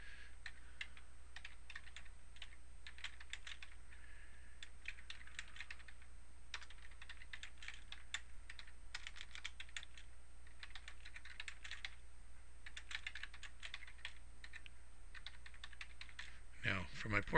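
Someone types on a computer keyboard in irregular bursts of quick, light clicking keystrokes with short pauses between, close and fairly quiet over a faint steady hum, ending with a slightly louder clatter.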